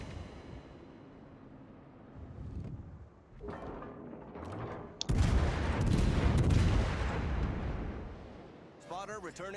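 Heavy naval guns of the cruiser Saint Louis boom in World of Warships, a rolling burst of loud blasts swelling midway and lingering, with game background noise and a voice talking at times.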